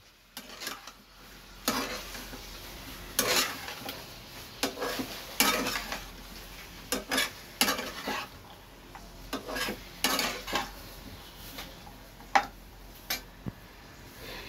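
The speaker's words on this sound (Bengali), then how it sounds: "দিয়ে এইগুলোকে আর একটু একসঙ্গে নাড়াচাড়া করে নেব" Lightly salted spiced chicken pieces frying in a little oil, with repeated clattering scrapes and knocks of a utensil stirring against the pan over a faint, low sizzle.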